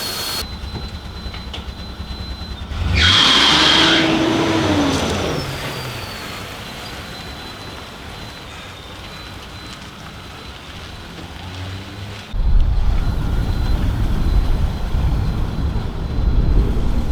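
A Nissan Pathfinder engine idles steadily with a constant broadband rumble, swelling louder for a few seconds early on and again near the end.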